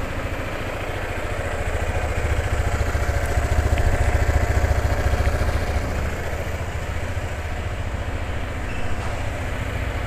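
A 2024 QJ Motor ATR 160 motorcycle idles nearby with a steady, dense engine rumble that holds an even level throughout, with no talk over it.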